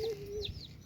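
A chicken clucks briefly in a village, a short, close call over soft outdoor background.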